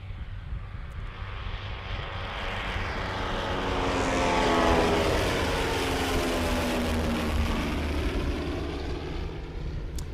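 A STOL airplane taxis out to the line at a Music City STOL competition practice, its propeller engine droning steadily and swelling slightly louder mid-way before easing off, with no voices.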